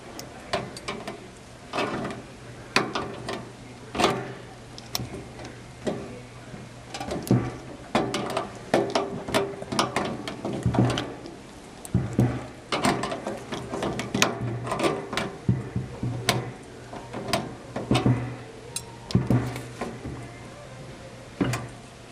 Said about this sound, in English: We're going to grab a needle nose plier, and we're going to try to loosen this first screw up here.